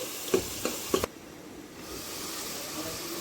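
Onion paste fries in oil until light brown as Chole Masala is cooked, a soft, steady sizzle preceded by a few sharp stirring clinks from a spoon against the pan.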